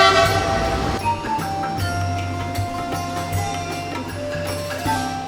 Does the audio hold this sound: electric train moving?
yes